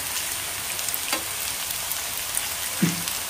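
Tapioca cutlets frying in hot oil in a pan give a soft, steady sizzle throughout, with a brief clink of a utensil as pieces are turned.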